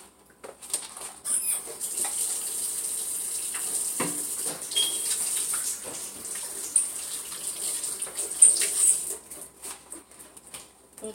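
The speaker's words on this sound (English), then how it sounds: "I'm going to go ahead and wash my hands." Tap water runs steadily into a sink while hands are washed beneath it, a close, hissing splash with small shifts in the flow and a few louder bursts of spatter near the end.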